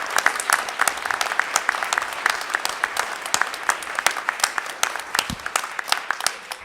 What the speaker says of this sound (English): let's give the audience, yourselves, a big round of applause and the panelists